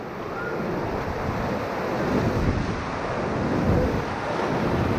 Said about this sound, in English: This is my favorite rapid on the Ocoee River.